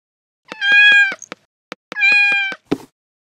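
Cartoon cat meowing twice, two long bright drawn-out meows each preceded and broken by short clicks, loud and close with no talk, followed by a brief thump.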